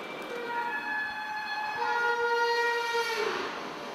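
A TGV high-speed train running between Paris and Marseille rolls on steadily with a continuous rumble, while sustained tonal horn-like whines rise and fall on top throughout.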